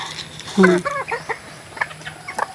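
Roosters and a hen cluck and call close by during a morning feeding, with a loud burst of clucking followed by scattered softer clucks over a steady farmyard hum.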